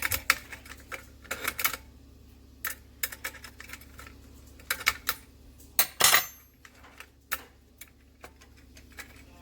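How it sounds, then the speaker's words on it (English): Parts of an Atlas 150 pasta machine are unscrewed, giving small metallic clicks, ticks and taps in irregular quick bursts, close and fairly quiet with a louder rattle midway and no talk. "I'm unscrewing."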